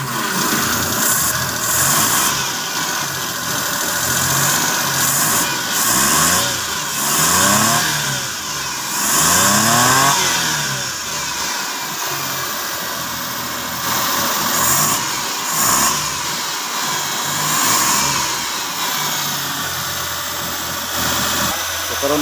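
A Suzuki Multicab engine runs steadily after starting, its loud mid-pitched drone rising and falling with several revs across the whole stretch, with a voice faintly under it.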